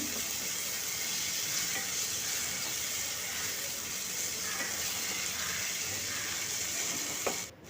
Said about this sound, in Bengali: তেলের সঙ্গে ভালো করে মিশিয়ে কিছুক্ষণ ভেজে নেব কাঁচা গন্ধ চলে যাওয়া অবধি